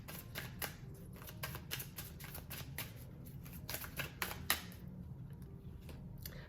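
Oracle cards riffle and snap as a deck is shuffled and drawn, a quick run of crisp, close, quiet card flicks over a low steady hum.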